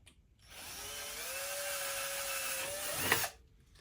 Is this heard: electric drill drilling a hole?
yes